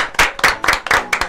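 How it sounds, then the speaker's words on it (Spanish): A few people clapping for a guest in a radio show studio, five or six distinct loud, uneven bursts of hand claps in quick succession, close by. "Un aplauso."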